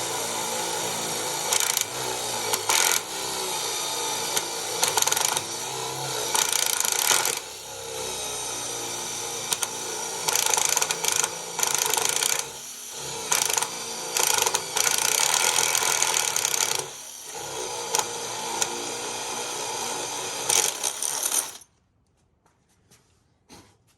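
An oscillating power tool cutting an outlet hole into the top of a wooden fireplace mantle, loud close buzzing in repeated bursts with brief pauses between them, ending in quiet.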